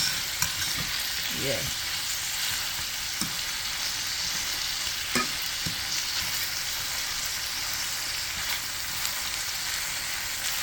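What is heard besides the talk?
tomato sauce cooking in a pan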